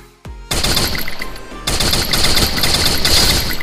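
Automatic gunfire in the Free Fire battle game, rapid bursts of close, loud shots rattling continuously after a brief sharp opening shot, with a short pause before the firing resumes.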